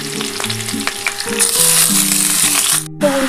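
Chicken pieces dropped into a pan of lightly fried potatoes for a spicy coriander masala chicken curry, giving a loud, steady sizzle that swells as the meat goes in, with stirring scrapes and bright hissing throughout.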